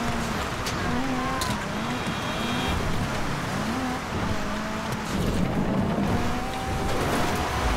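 A car engine hums steadily while driving around a fishery in a video game, a continuous droning motor with slight pitch shifts, loud and close, no talking.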